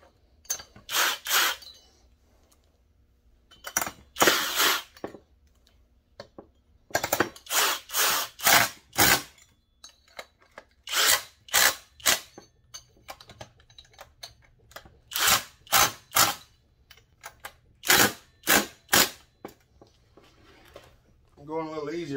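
A power tool, likely an impact gun, drives bolts during a cylinder swap on a Husqvarna 372XP chainsaw, firing in short repeated bursts with brief pauses between them, loud and close.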